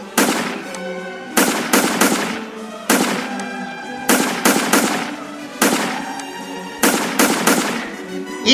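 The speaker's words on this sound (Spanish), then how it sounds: "y empezaron los disparos" Gunfire sound effect for the fighting at the start of the Mexican War of Independence: loud, sharp rattling volleys in repeated bursts, separated by brief pauses and fading tails.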